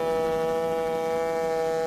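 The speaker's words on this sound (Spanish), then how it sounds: "el estridente sonido de la sirena resquebrajaba el aire helado y húmedo del Atlántico Sur" A ship's siren sounds in thick fog over the cold South Atlantic, one loud, steady, sustained tone that holds unbroken from start to finish with no voices.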